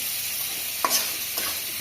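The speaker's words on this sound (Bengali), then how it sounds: "এই যে মাছটা ভেজে নিচ্ছে" Continuous loud sizzling of fish frying in a pan, with a couple of brief stirring scrapes.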